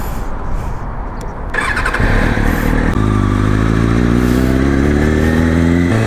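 A Kawasaki ZX-6R 636 sport motorcycle starts with a loud crank and catch, then settles into a close, steady idle that climbs in pitch as the engine is revved over several seconds.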